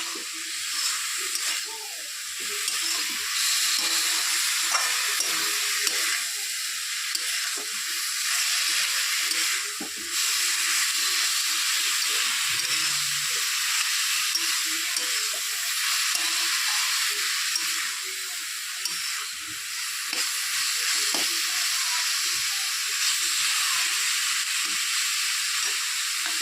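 Leafy greens (batua/bathua shaak) with pre-fried eggplant sizzle steadily in a pan as they are stir-fried, a continuous hissing fry with occasional soft scraping, close and even throughout with no talk.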